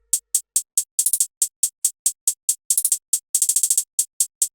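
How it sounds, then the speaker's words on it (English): A dry, bright hi-hat ticks steadily, broken up by quick rapid-fire rolls, alone and crisp. "Then we have this hi-hat, and that plays this pattern."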